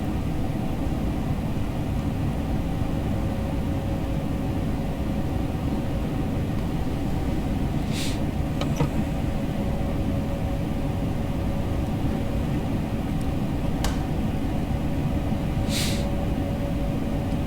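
A train engine in a simulator drones steadily as the train eases onto a descent on the Kassel–Würzburg high-speed line. The low rumble is loud and continuous, and a few brief hisses or clicks break through it.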